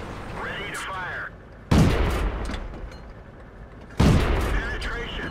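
Two loud, sharp tank cannon shots in World of Tanks, from a Pz38nA on the Malinovka map, each a sudden blast with a long rumbling tail, about two seconds apart, with quieter battle noise before the first.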